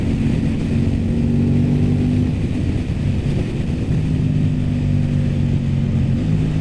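An Aprilia RS 660 motorcycle's engine drones steadily and close throughout, a sustained mid-pitched tone with slight shifts that could be quick-shifter gear changes, no voices present.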